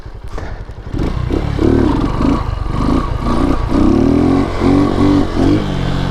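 A Lifan KP motorcycle revving hard off-road during a wheelie attempt, the loud close engine note rising and falling in several surges, with clattering and thuds beneath.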